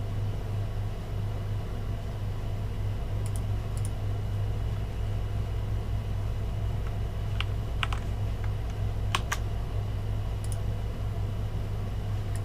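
Typing on a computer keyboard during a programming exercise: scattered, crisp keystrokes in short bursts over a steady low hum, with no talking.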